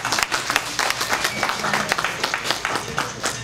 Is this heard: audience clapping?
yes